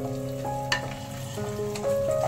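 Cashew nuts frying in oil in a pan make a soft, steady sizzle close by, broken by a few light stirring clicks.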